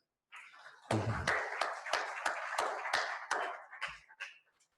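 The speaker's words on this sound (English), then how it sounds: "I want to take the advantage of this opportunity to ask for an applause for all of them." A small audience at an internet governance talk gives a brief, sparse round of applause: a handful of distinct claps with a short fuller burst near the start, ending in scattered final claps.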